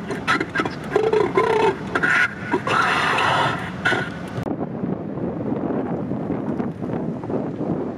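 Strong wind buffets an outdoor microphone, a dense rumbling roar that fills the sound throughout, with brighter scraping noise in the first half before it settles into a steady blustery rush.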